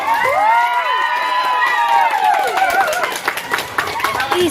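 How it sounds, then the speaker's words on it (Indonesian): An audience at a Maulid Nabi celebration applauds and cheers after an Islamic dance by schoolgirls, a lively crowd sound under excited shouts and overlapping voices, with clapping thickening toward the end. "Berikan tepuk tangan dulu"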